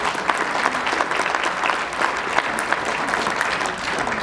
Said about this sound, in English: So you guys should give yourselves a round of applause.